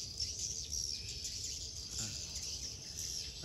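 Swiftlets call from inside a newly finished swiftlet house in Binh Phuoc, Vietnam, a faint, steady high chirping chorus with no talk over it.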